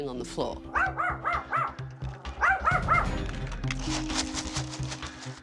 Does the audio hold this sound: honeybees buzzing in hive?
no